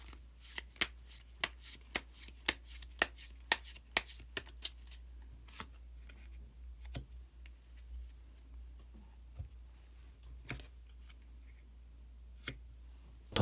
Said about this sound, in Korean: 마지막으로 히든 카드를 한 장 더 뽑아보도록 하겠습니다